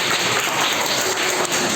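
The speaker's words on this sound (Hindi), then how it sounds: "अपने लिए तालियां बजाओ।" Schoolchildren in a classroom clap for themselves, a dense, continuous burst of many small hands close by that lasts under two seconds, with no talking.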